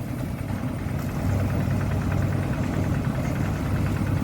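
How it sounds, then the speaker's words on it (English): A homemade all-purpose family tractor's engine runs at a steady idle nearby, a continuous low rumbling chug with a slight knocking vibration and no voices over it. "So this is the all-purpose family tractor."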